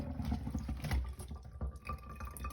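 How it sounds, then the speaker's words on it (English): Tea towel briefly held under a running tap, a steady close splash and trickle of water with small drips, no voices. "with the tea towel is to get it and then run it under some water"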